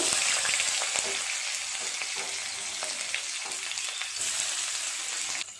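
Chopped onion frying in oil with dry red chilli, bay leaf and whole spices for mutton keema, a continuous bright sizzle with occasional stirring taps, close and steady.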